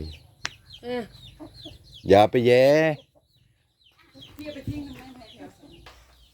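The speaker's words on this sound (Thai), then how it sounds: "ไก่" Chickens cluck close by outdoors, with one loud, drawn-out squawking cackle in the middle and softer clucks later, while people talk in Thai around them.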